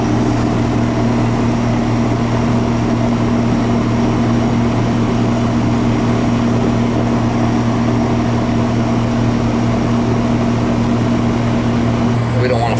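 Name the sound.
old air conditioning system running poorly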